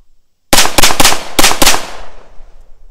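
A rifle fitted with a Nexus Evo Gen 1 muzzle device fires a quick burst of about five loud, sharp shots in rapid succession, the last report trailing off into a fading echo.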